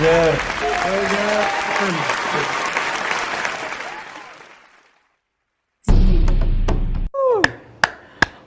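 Floor applause at an African certificate award ceremony: dense clapping under a speaking voice that gradually fades to silence, followed by a short abrupt burst of noise and a few isolated sharp claps.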